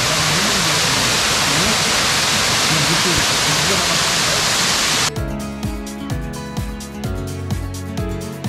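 A double waterfall on a tributary of the Rio Cari near Morretes roars as a steady broadband rush of falling water for about five seconds, then cuts to a different, louder rhythmic sound.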